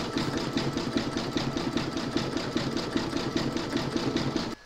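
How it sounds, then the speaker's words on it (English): An embroidery machine satin-stitches around the edge of an in-the-hoop medical rescue pouch, sending out a loud, steady, rapidly repeating mechanical chatter from close by, alone without talking. "you're now going to stitch round number 14, and that's going to satin stitch all round the edge here"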